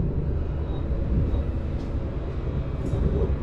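An electric commuter train carriage on the evening run to Lazarevskoye, a steady low rumble of wheels and car body filling the ride throughout, close and continuous with no talk.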